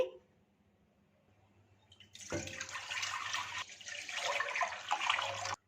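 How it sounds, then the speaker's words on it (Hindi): About half a cup of water poured into a pot for rice kheer, a sudden splashing stream that starts after a quiet moment and keeps running loudly to the end. "दूध शामिल करने से पहले तकरीबन आधा कप इसमें पानी शामिल कर देंगे।"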